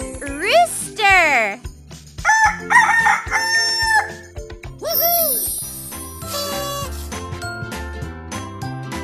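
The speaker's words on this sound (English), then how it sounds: "Rooster." A cartoon rooster crows loudly in a children's puzzle game, two bright cock-a-doodle-doo calls mixed with chiming jingles and game music.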